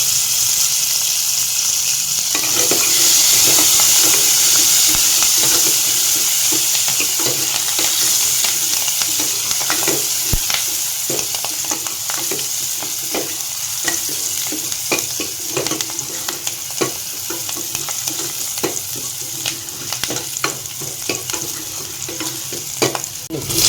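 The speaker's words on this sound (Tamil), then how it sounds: "சின்ன சின்னதாக அரிஞ்சு கருவேப்பிலை, சின்ன வெங்காயம் போடுறாங்க. போட்டு நல்லா வதங்கி" Curry leaves and small onions sauté in a pan for a chana dal kuzhambu, with a loud, continuous close sizzle broken by repeated scraping stirs.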